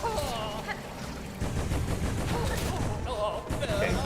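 A boss fires a fireworks attack in Hollow Knight: Silksong, a burst of popping, crackling blasts mixed with game music and effects, loud and busy throughout.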